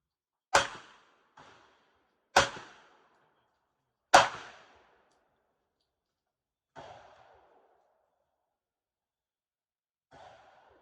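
Sharp pistol gunshots crack out at irregular intervals at a shooting range, some loud and close, others softer, with brief echoing tails and silence between.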